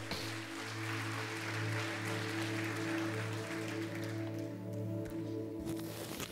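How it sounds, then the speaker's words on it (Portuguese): A church congregation claps together in steady, soft, fairly distant applause that continues throughout, over a low humming room tone. "Dê um aplauso ao Senhor,"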